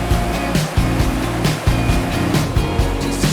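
A mountain torrent in the Zillertal rushes steadily nearby in a loud, constant roar with surging pulses.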